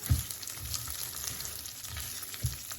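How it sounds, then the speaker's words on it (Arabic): Rice and lentils are stirred and fried in oil for Alexandrian koshari, giving a steady soft sizzle with a few low scraping stir strokes near the start and again near the end, close and moderately quiet with no talk. "هنقلبهم كده مع بعض لحد يعني ما يتغلفوا كويس قوي بالزيت."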